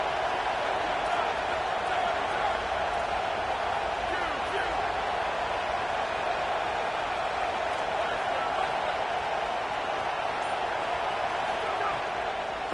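Crowd in a college football stadium roars steadily behind the defense on a big third down, a continuous loud wash of cheering with no break across the whole stretch.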